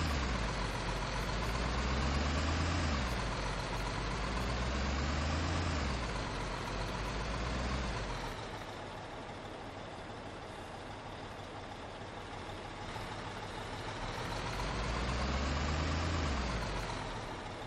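A concrete truck in Construction Simulator 2015 idles with a steady low diesel rumble, swelling and easing slightly as the revs shift, close and continuous with no talking.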